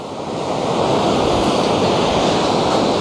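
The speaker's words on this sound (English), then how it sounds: "It's pretty windy out here today." Strong wind of about 19 mph roars steadily across outdoor external microphones paired with a GoPro Hero 10 Black, a loud, continuous broadband rush with no voices.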